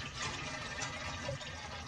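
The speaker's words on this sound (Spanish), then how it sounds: "Una vez que hierve el agua, amigos, voy a colocar los tamales." Vegetable and cheese tamales go into a pot of boiling water, giving a steady, moderately faint bubbling and watery rush with no talking.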